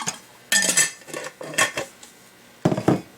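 Tableware clatter while a tablespoon of sugar is measured into a sourdough dough: several short bursts of spoon-against-bowl clinks and scraping, close and fairly loud, with brief quiet gaps between them.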